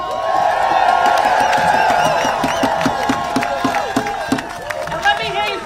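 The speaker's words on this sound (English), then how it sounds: "I wanted you to give a big hand clap and a whole lot of shouts to my sister Mariah Parker from USSW." A May Day rally crowd in Atlanta, Georgia claps rhythmically and cheers while an amplified voice talks over it, the claps coming in a steady beat that loosens and fades toward the end.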